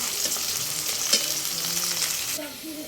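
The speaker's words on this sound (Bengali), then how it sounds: "দেখুন কি সুন্দর করে আলুটা ভেজেছি আমার মেয়ের জন্য" Potato slices frying like chips in hot oil in a home kitchen pan, a close, continuous crackling sizzle with a few stirring scrapes, quietening slightly at the end.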